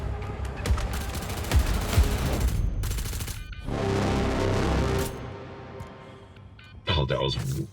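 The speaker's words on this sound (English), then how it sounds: "so they will shoot on sight." Gunfire rattles almost without a break in the Star Citizen video game, with dense bursts of shots under a constant layer of noise that swell louder toward the end.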